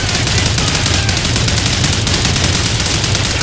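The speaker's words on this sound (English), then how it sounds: "At least the turret sounds good." Turret gunfire in Call of Duty: Ghosts, a dense, unbroken stream of rapid automatic shots, loud and close, lasting throughout.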